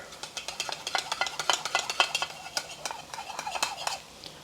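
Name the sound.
stirring beef and broccoli stir fry with slurry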